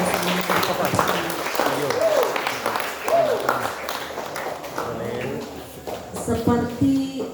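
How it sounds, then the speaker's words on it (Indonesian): An audience at a school event in a high school hall gives a round of applause, moderate clapping running beneath voices talking throughout, with a few louder claps near the end. "Tepuk tangan dulu untuk kita semua."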